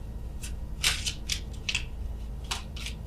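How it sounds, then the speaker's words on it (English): Tarot cards shuffled slowly by hand, a series of soft papery riffles and flicks in irregular bursts over a steady low background hum, with no talk. "apologies for the shuffling here"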